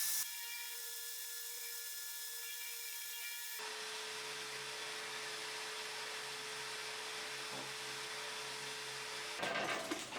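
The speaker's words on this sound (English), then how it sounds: "Once all the edges and boards have been sanded" A power sander works wooden boards with 80-grit and then 240-grit abrasive, a steady, whirring, high-pitched hiss that starts abruptly and runs continuously, close and fairly loud.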